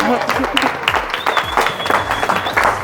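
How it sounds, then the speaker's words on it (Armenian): Clapping fills an 18th birthday party celebration in a steady, close wash of hands from a small crowd, with voices talking over it throughout. "Ծապերով եք շնորհավորում, հա։"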